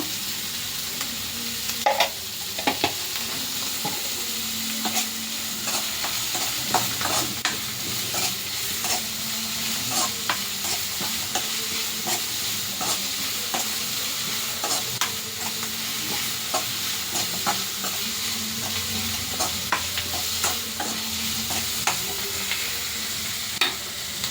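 Salted onions frying in oil for egg burji, a continuous loud sizzle punctuated by regular sharp scrapes and taps of a spatula stirring against the pan, with no voices.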